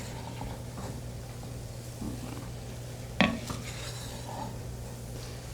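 Spoon working thick choux pastry dough around a pot, soft scraping and stirring strokes over a low steady hum, with one sharp clink of metal against the pot near the middle.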